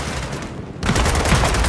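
Dense, loud gunfire rattles in the Gears of War 4 video game, a continuous burst of shots and booming impacts that swells louder after a brief dip, close and filling the scene.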